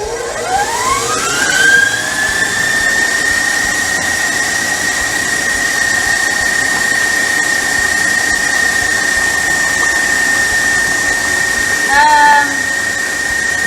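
Stand mixer beating butter and sugar in the mixing bowl for an Oreo cake batter, a steady high whine that ramps up at the start then holds constant, briefly dipping near the end.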